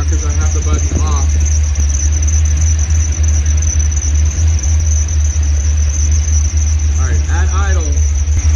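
A car engine idles steadily while driving an alternator modified for both battery charging and welding, a constant low hum with a high whine running throughout, with brief bursts of speech near the start and end.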